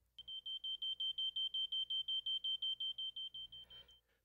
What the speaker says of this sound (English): Be sure to test the alarm in position 1 to ensure the horn will sound after about 20 seconds